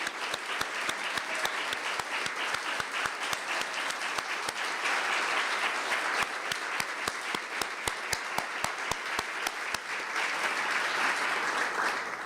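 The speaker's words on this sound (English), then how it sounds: "I think that deserves a round of applause." Sustained applause from a large crowd at a NAVI Service ribbon-cutting ceremony, many hands clapping steadily and loudly for the whole stretch without any voices on top.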